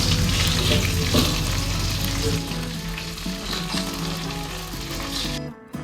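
Chicken frying in a pan of oil, a loud steady sizzle close by with scraping and stirring knocks, easing slightly midway and cutting off abruptly near the end.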